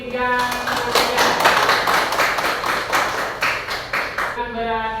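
Classroom students clap together in a steady burst of applause, close and fairly loud, with voices and chatter mixed in beneath the clapping.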